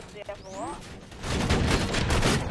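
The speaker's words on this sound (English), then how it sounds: "Auto gun deployed!" An auto gun turret opens fire in the video game Borderlands 2, a dense burst of rapid gunfire that swells loud after a brief moment of game sound effects and voices.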